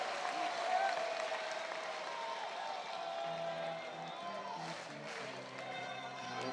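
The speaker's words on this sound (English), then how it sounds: "This Auburn crowd always going to make a lot of noise" Auburn baseball crowd cheering during a night game against Milwaukee, a steady distant roar of voices and clapping, with a commentator talking over it partway through.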